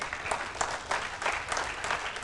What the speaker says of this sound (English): When my hand is at this level, you need to give a big clap.